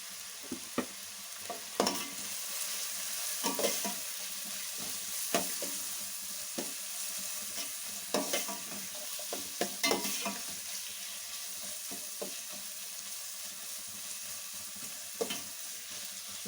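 Rice coloured with turmeric sizzles in hot oil for street-style fried rice, with a steady frying hiss broken by repeated scraping stirs and sharp clacks of a spatula against the pan.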